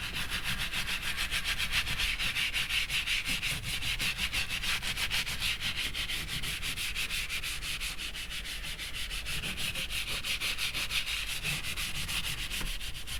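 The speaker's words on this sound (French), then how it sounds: "Vous passez la brosse tranquillement, pas aller abîmer plus le cuir qu'autre chose." A brush scrubs steadily over the leather upholstery of an Audi TT roadster, a continuous close rasping rub with a fast repetitive stroke rhythm and no talking.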